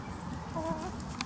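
Backyard chickens give a few soft clucks on a quiet morning, close by, with faint insect-like buzzing and a brief higher chirp near the end.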